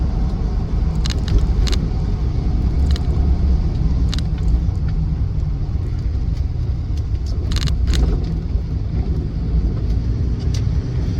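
A highly modified Land Rover Defender 110 with a 2.2 TDCi diesel, turning left at a junction, gives a steady low engine and road rumble from inside the cabin, with faint rattles and clicks now and then and no talk.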